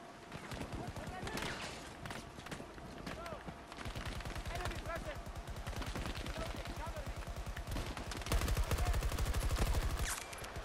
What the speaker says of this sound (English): somebody's firing at us